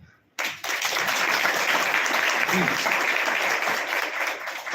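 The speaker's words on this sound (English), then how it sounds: "Can I hear a small clap?" A temple audience at a spiritual talk breaks into applause after a brief quiet moment, a dense, steady clapping that carries on to the end.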